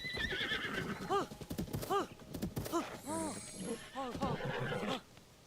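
A horse in Zelda: Tears of the Kingdom whinnies several times in bright, descending neighs, with hooves clip-clopping between calls and game sounds layered underneath.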